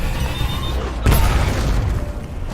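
A sudden deep boom of a bomb explosion in a film bursts about a second in, followed by a rumbling, crackling tail that fades gradually.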